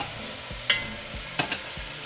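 Beef sizzles quietly as it sears in a hot pot, with a few soft clinks and scrapes breaking the steady hiss.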